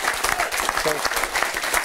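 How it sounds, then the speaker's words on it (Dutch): A studio audience briefly applauds a guest, quick overlapping claps heard under a speaking voice. "Jongens, even een applaus voor Intje Ritsma"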